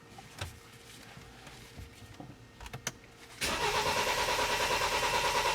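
BMW X3 engine with a cranks-but-won't-start fault, quiet clicks and shuffling before the starter kicks in with a loud, steady rhythmic cranking whir that continues without catching.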